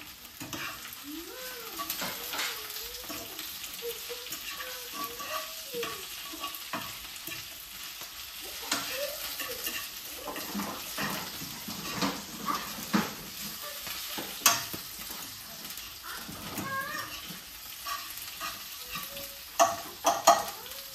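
Potatoes fry in oil with a constant low sizzle and crackle, broken by occasional stirring clatter and scrapes. Faint whistle-like tones drift in the background early on.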